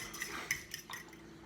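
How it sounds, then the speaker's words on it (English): Wet ingredients are mixed together in a bowl with a utensil, producing a few faint, quick clinks and soft scrapes against the bowl, quiet and close with no voices. "you want to mix up all your wet ingredients together"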